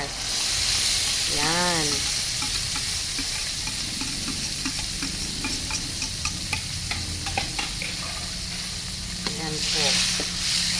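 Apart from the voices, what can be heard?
sardines being added and fried in a pan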